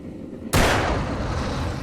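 In the video game Alan Wake on Xbox 360, a shot hits an explosive object, giving one sudden loud blast that rolls into a sustained rumbling roar.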